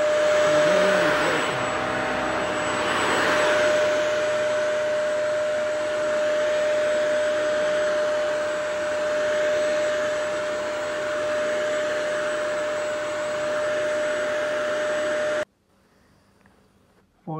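A Bissell CrossWave vacuum cleaner runs on its hard floor setting with a steady, loud motor drone and a high whine, cutting off abruptly near the end.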